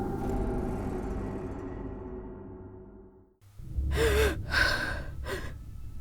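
Sharp breathy gasps, two or three quick inhalations close to the ear, follow a fading rumble and a brief hush.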